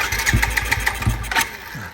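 A 2018 Suzuki GD110 motorcycle engine cranks in a quick series of sputtering pulses and then catches, close and fairly loud, with no talking.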